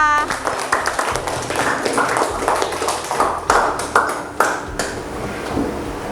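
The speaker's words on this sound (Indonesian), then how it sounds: "Tepuk tangan untuk Keira" Students clap for a classmate in an elementary school lesson, a burst of scattered hand claps with sharp taps that fades over several seconds.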